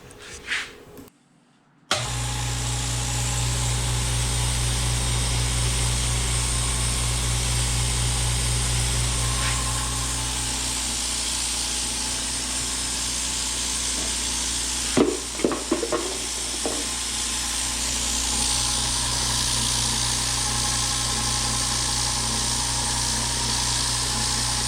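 A quiet California Air Tools air compressor with braided lines and a muffled air intake starts up after a brief gap, then runs with a steady low motor hum for over twenty seconds, broken midway by a few small clicks.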